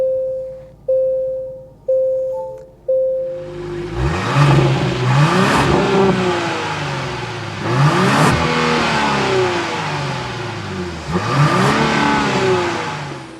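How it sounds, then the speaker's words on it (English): A twin-turbo engine in a 2024 Genesis GV80 Prestige SUV starts after a few chimes, then revs several times, rising and falling loudly and close in a deep exhaust note. "start it up so you can hear that exhaust note"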